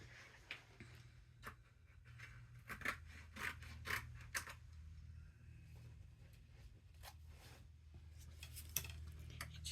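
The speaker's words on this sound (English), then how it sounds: "I'm just going to snip a little piece off." Scissors snipping paper for a handmade hummingbird card, a series of crisp close cuts in uneven rhythm, quiet and alone over a low background hum.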